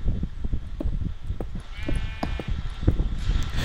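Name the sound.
sheep bleating in video game Minecraft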